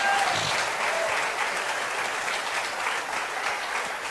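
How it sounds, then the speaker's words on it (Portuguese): A church congregation breaks into steady, dense applause that carries evenly through the whole stretch without a voice on top. "Vamos dar uma salva de palmas para Jesus, o nosso primeiro missionário"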